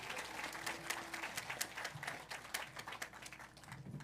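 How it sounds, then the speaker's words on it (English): Audience applause at a high school ceremony, a steady patter of many hands clapping at moderate volume with a few louder claps and faint crowd murmur underneath, no speech. "Give them again a round of applause."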